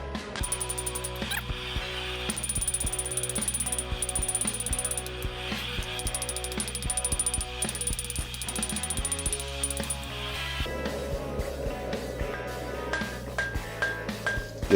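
Steel being forged into a tapered knife tang, with a rapid, even series of metallic strikes repeating throughout, fairly quiet and close.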